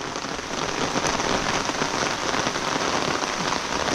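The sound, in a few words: heavy rain falling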